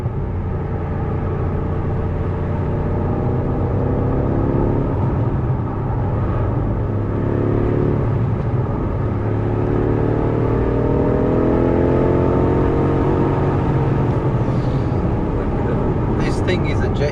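A Stage 1 tuned BMW F90 M5 Competition with active exhaust drones loudly in manual mode, its engine note rising and falling in long sweeps as revs climb, with steady road and cabin rumble throughout.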